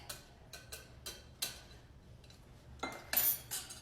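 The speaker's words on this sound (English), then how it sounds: "Whisk, whisk." A whisk clinks against a bowl while cake batter for a one-bowl chocolate cake is mixed, making a run of sharp metallic taps, quiet and spaced at first and then faster and louder near the end.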